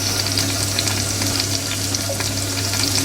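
Cumin seeds sizzle in hot oil in a kadai, producing a dense, steady, close crackling fry with no pauses and no talk.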